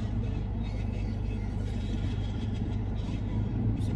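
A motorcycle engine runs close by with a loud, continuous low rumble that holds steady throughout, and faint voices can be heard underneath.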